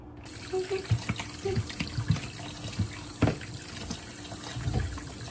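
Tap water runs into a sink during handwashing in a home kitchen, a steady close splashing wash with uneven bursts as hands move through the stream, and brief voices in the background.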